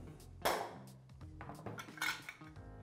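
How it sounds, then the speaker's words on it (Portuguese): A small hammer strikes a ceramic tile folded inside a towel, giving several muffled knocks and sharp clinks of cracking ceramic shards at an irregular pace, close by, with no speech. "dobrar esse azulejo até um ponto que você acha que tem um ponto de segurança, tranquilo, e com um martelinho"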